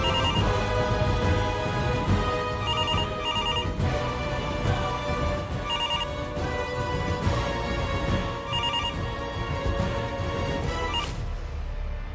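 A telephone ringtone plays at an even volume for about twelve seconds, a bright electronic melody of repeating tones that loops without pause and is heard with no speech over it.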